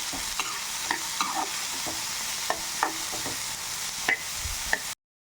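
Cooked lentils and beans are stirred and fried in a pan for beans bele bassaru. A continuous sizzle plays under repeated utensil scrapes and taps, then cuts off abruptly near the end.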